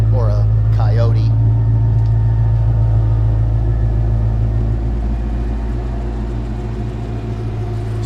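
A Fox-body car with a swapped Ford Coyote V8 idles steadily in a shop, a deep, even rumble that holds loud and constant throughout, with a brief voice near the start.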